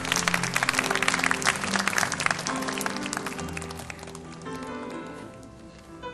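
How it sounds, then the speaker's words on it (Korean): Church congregation at a youth worship service clapping steadily for about six seconds, a busy wash of applause over faint musical tones that softens toward the end. "박수로 앞으로 모셔보도록 하겠습니다."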